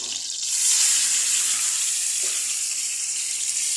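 Heated cooking oil poured into a pan for chicken butter, a steady bright hissing wash with a soft splash partway, fairly close and with no voices.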